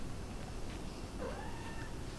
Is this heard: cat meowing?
yes